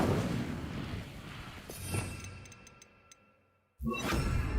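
A fire spell cast in the Hogwarts Legacy video game lands as a loud whooshing burst with no talk. It comes after a spell sound builds, dies down and goes nearly silent.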